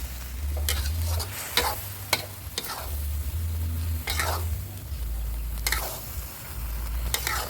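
Minced pork stir-frying with dried chili, green chili and crisp Thai eggplant in a hot pan, a steady loud sizzle broken by repeated scraping strokes of a spatula, close up with no voices.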